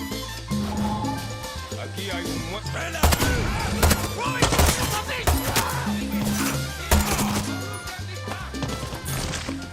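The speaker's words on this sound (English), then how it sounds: "Oh, I can use the mortar for it." A mortar fires in the shooter game Far Cry 6, with heavy booms and blasts among dense gunfire and crashes over game music.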